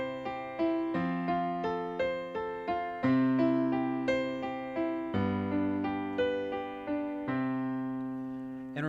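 A piano plays a cadence at the end of a chord progression, with a sequence of sustained chords struck in a steady rhythm, clear and close, alone without speech.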